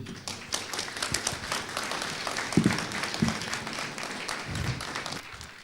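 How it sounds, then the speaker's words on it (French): Audience at a round-table conference applauds the speakers, a moderate, fairly distant patter of clapping lasting over five seconds with a few louder taps. "Je pense que vous pouvez les applaudir"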